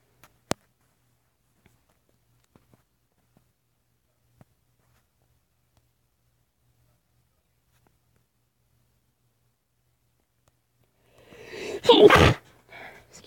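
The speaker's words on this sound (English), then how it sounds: "Mine is not a cute sneeze." One loud, forceful sneeze bursts out near the end after a long stretch of near silence broken only by a few faint clicks.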